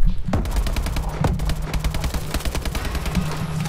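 Rapid bursts of automatic gunfire from an AK and other guns in the Call of Duty Advanced Warfare multiplayer video game, dense and loud with overlapping shots in a steady clattering rhythm.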